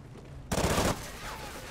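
A loud burst of automatic gunfire from Call of Duty: Ghosts lasts about half a second, followed by quieter game noise and a fading ring.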